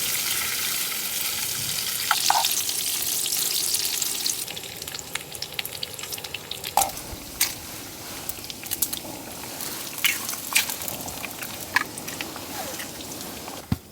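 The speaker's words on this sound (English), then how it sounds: "The smell of that sizzling bacon is incredible." Bacon frying in a pan at a campsite in winter storm weather, a steady close crackling sizzle with scattered pops and occasional utensil clicks, no one talking.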